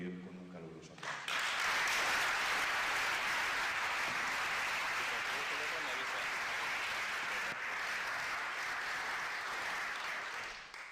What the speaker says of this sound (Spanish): vamos a recibir con un caluroso aplauso